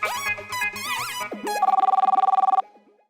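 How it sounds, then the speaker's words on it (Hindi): A telephone call being placed: a jumble of short electronic tones, then a rapid pulsing ring tone that repeats steadily for about a second before cutting off, fairly close and clear. "तू जल्दी फोन लगा भाई। हाँ लगा रहा हूँ।"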